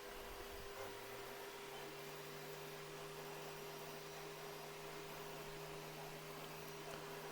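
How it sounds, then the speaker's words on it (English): A heat gun runs with a steady, faint whirring hum and airy hiss that switches on just under a second in and holds evenly to the end, with no voices. "So I'm going to bung my heat gun on."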